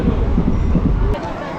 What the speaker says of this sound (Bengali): ট্রেন কিন্তু বেশ দুরন্ত গতিতে চলছে এখন।